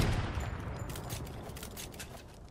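Rapid gunfire hits a wall in Fortnite, a quick string of sharp, close shots that comes in loud and fades slightly over a couple of seconds.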